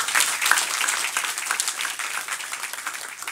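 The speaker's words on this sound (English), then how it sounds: "Let's give those youth one more round of applause." Church congregation applauding a youth group during a service, a dense steady patter of many hands that stays fairly loud across the whole stretch and eases off slightly toward the end.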